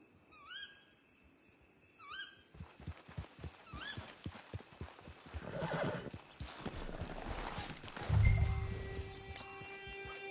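A horse in the video game Red Dead Redemption 2 whinnies several times and walks with steady clip-clop hoofbeats, loud and close, with a brief snort near the end.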